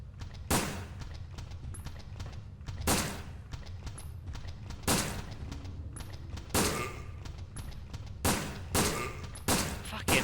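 Single gunshots fired at a creature in Resident Evil Dead Aim crack out at regular intervals of about one to two seconds over a low, rumbling game background, with no talking.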